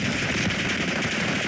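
Rapid automatic gunfire from the video game Call of Duty: Black Ops 6 sounds as a dense, continuous burst, loud and close, across a short stretch.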